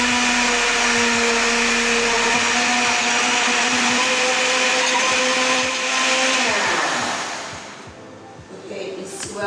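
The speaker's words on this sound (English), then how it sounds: "So I'm going to blend this in a smooth paste." A blender whirs loudly and steadily, grinding red chili and water into a smooth paste for kidney bean porridge. The motor pitch shifts and fades near the end.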